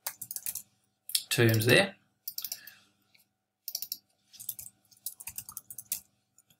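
Short bursts of keystrokes on a computer keyboard while entering notes in music notation software, clattering in several quick clusters separated by pauses, with someone speaking briefly between them.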